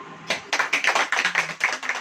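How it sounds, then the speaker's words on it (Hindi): A church congregation clapping hands together in unison, a run of quick, fairly even claps close by, with no talking over them. "आप लोग देखिए आज तालियां कैसे बज रही हैं, एक स्वर से बज रही हैं"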